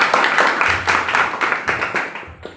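An audience bursts into strong rhythmic clapping, a loud close round of applause with regular pulses that thins out near the end.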